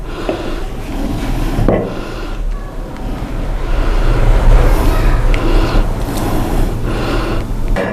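Mushroom batter for a village-style kalan gravy, with mint, coriander and curry leaves, kneaded by hand like pakoda dough: a close, continuous wet squelching and rubbing that swells and eases without a break.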